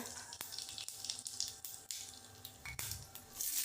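Cumin seeds crackle and sizzle in hot oil in a home kitchen pan, a steady close frying hiss with scattered sharp pops and brief stirring scrapes, no voices.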